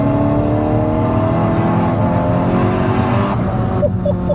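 A Stage 3 Seat Ibiza Cupra, 370 bhp, holds a loud, steady high-rpm engine rev with dense harmonic drone close by, the pitch wavering slightly before easing near the end.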